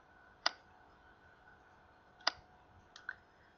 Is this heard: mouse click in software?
yes